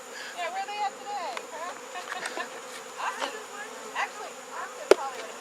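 Bees swarming inside and around a propane tank, a thin insect drone with buzzing swells, overlaid by people talking nearby and a sharp knock near the end.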